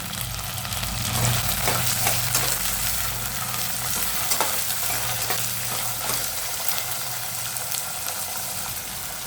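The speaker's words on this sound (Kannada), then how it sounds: "ಅವರೆಕಾಳು ಫ್ರೈ ಆಗಿದೆ ನೋಡಿ" Fresh field beans (avarekalu) fry in oil with onion for a pudina pulao, making a steady, close crackling sizzle as a spoon scrapes and stirs through them at intervals.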